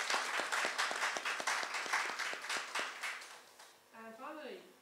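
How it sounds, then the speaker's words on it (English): An audience at a Hindustani classical vocal recital applauds a performer with a run of distinct, evenly spaced claps that thin and fade, then a sustained tonal voice enters near the end. "So a round of applause for Amol"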